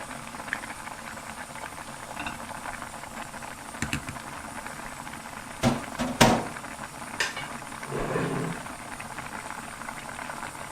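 A pot of zucchini stew with kelp bubbling on the stove, a low steady simmering rumble with a few metallic clinks and clatters of utensils against the pot nearby.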